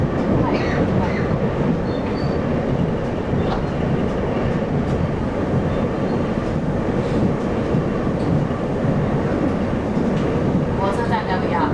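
A Taiwanese local express train, number 1553, runs from Zhubei to Hsinchu, heard from inside the carriage as a loud, steady rumble of wheels and rail noise with faint rhythmic clatter throughout.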